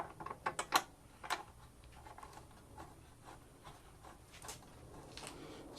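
Allen bolts with small rubber washers are snugged down on a Hobart Champ 140 welder generator, a few quick faint clicks and rubs at the start, then quiet scraping handling noise.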